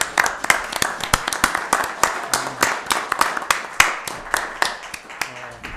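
A small group at a town council meeting claps for staff members. The claps are sparse and distinct, close and fairly loud, with voices talking over and between them.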